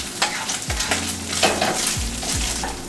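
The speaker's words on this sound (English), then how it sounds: "So now what I want to do is mix everything all up." Ground beef and spices stirred in a sizzling frying pan, a steady loud fry hiss with repeated scraping strokes of a utensil across the pan, no voices.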